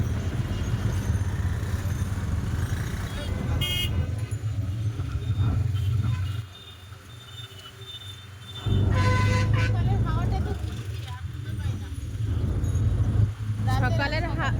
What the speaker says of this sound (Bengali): এদিকে দেখে আবার ভালোই যানজট আছে।